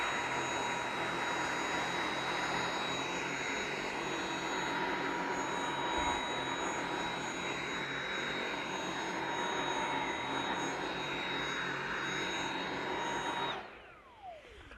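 A Dyson V7 Motorhead cordless vacuum drones steadily at high pitch as it passes over carpet, with a constant whine that runs unchanged for most of the clip before cutting off near the end.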